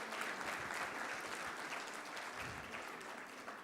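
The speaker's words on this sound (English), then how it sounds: "I would request all of you to put your hand together for a round of applause to sir." An audience at a hospital awards event gives a round of applause, steady and continuous crowd clapping heard at a distance, fairly faint.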